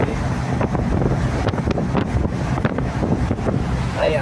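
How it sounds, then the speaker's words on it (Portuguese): Gusty wind blows by the bay in Rio de Janeiro, buffeting the microphone in a continuous rushing roar that swells and dips in short bursts, with no talk. "Aí, aqui é mais vento, ó."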